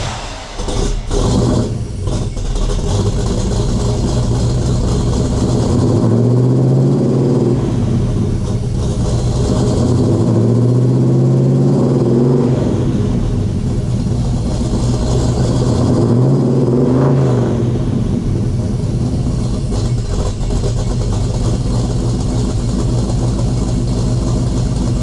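A 1966 Pontiac GTO V8 running close by, a loud continuous rumbling drone that swells in three slow revving surges before settling, with no speech over it.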